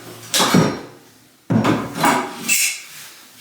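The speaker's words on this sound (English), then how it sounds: "If you pry it right on the nails, you won't have any breakage in your trim." Old bathroom trim pried off its nails, two loud close bursts of creaking wood and scraping, the second stretching into a few strained pulls.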